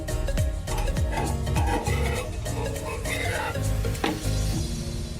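A hand-rolled paratha cooks on a hot tawa griddle, a steady close sizzle broken by scraping and clinks of a utensil against the pan.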